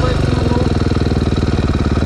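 A motorcycle engine is held on the throttle during a wheelie, giving a close, loud, rapid throbbing pulse with a steady beat throughout.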